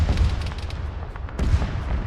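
A tank is destroyed in Arma 3, heard as a cluster of heavy booms and rumbling blasts, loud and close, with a second burst of impacts near the end and no talk.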